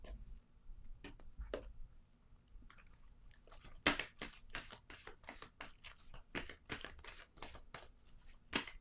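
Tarot cards are handled and laid down on a table, a series of crisp papery taps and slides, sparse at first and then more frequent, close and fairly quiet.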